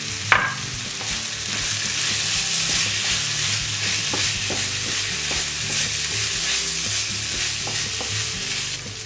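Rice sautés in oil for a vegan seafood-style paella, a dense, loud continuous sizzle with soft scraping of stirring throughout.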